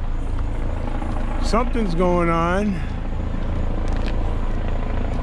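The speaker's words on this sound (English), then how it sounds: "You can see there's the helicopter." A police helicopter flies overhead in a city, heard as a steady low rotor drone under road and engine noise, while someone speaks briefly nearby.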